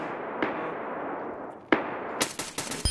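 Gunfire in the shooter game Escape From Tarkov: two sharp isolated shots, then a dense burst of rapid automatic fire near the end, loud and close, with no talking.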